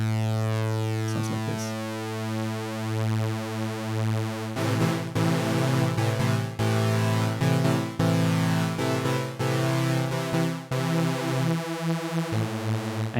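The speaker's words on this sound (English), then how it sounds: "And then if I turn up the wave shaping," Audiothingies MicroMonsta synthesizer playing a detuned super saw with wave shaping turned up: a sustained, buzzy, harmonically dense chord, then choppy retriggered stabs from midway, with a brief spoken phrase near the start.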